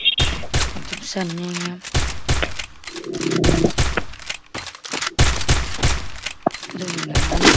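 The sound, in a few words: gunfire in a video game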